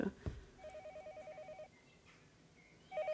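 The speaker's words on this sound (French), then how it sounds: "On entend un téléphone." A telephone rings in a room with a rapid warbling electronic trill, one ring burst lasting about a second and another starting near the end, faint and somewhat distant behind low background noise.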